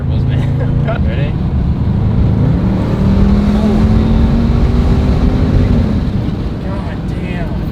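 A BMW M550 tuned to 900 hp with turbos runs on E50 and methanol and accelerates hard, a loud, rising engine roar inside the cabin that fades slightly at the end, with voices talking over it.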